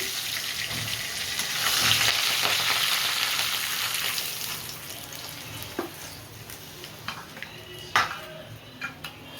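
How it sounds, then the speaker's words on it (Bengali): Oil sizzles and spits steadily in a kitchen pan, with a dense, close frying hiss. Occasional sharp clinks of a utensil against the pan come in toward the end. "আমি বেগুনগুলো ভেজে নেব।"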